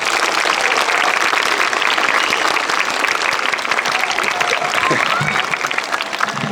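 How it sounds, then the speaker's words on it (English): Steady, full applause from an audience at a school campus gathering, dense clapping holding at an even loud level for several seconds with faint voices underneath. "If we could give them a round of applause for joining us today, please."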